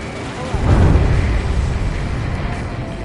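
A deep underwater explosion in the video game Ace Combat 7: Skies Unknown swells into a muffled, rumbling boom, then a long low roar lingers with a steady background drone.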